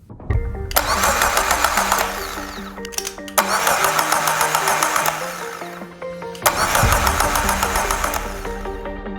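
A car's starter motor cranks the engine in three separate bursts of a few seconds each, loud and close, with brief pauses between them.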